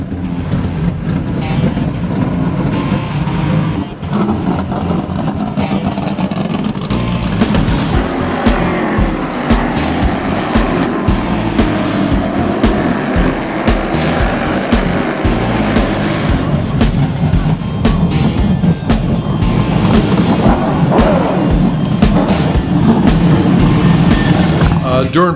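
A race car laps Stafford Speedway in practice on new practice tires, its engine roaring loud and steady throughout with occasional tire squeal, close and continuous.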